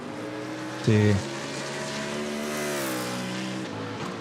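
Onboard race car engine during sim racing on the Digital Nürburgring in an endurance event, a buzzing harmonic whine that rises and falls with gear changes beneath a commentator's steady talk.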